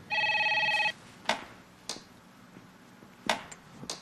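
A telephone bell rings in one short, loud electronic burst at the start of an office scene, followed by a few sharp knocks and clatters.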